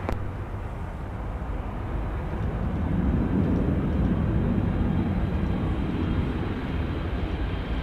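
A heavy Airbus airliner touches down on runway 12 right at Minneapolis–Saint Paul airport, giving a loud, steady, broadband roar that swells slightly midway and holds without pause.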